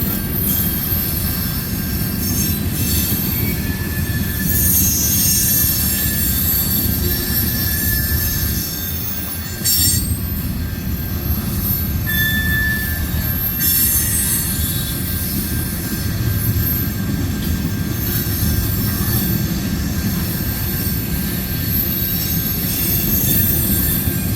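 A CN freight train led by locomotive 3368 rumbles steadily past at close range in Ladysmith, Wisconsin, wheel flanges squealing in long, high screeches over the continuous low roar, no voices.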